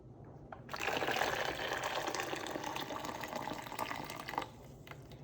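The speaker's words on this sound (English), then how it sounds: "putting in hot water" Hot water pours steadily into a container while making Greek yogurt at home, a close, bubbling gush that starts abruptly, holds for several seconds, then cuts off, leaving quiet.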